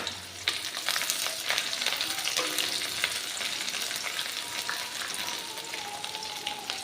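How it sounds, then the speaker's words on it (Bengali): Bay leaf, dried chillies and chopped onion fry in a pan for moong masoor dal, a dense close sizzle with light stirring clatter throughout. "একটা মিডিয়াম সাইজের পেঁয়াজ কুচি দিয়ে দিলাম এই সমস্ত কিছু একটু ভেজে নেব"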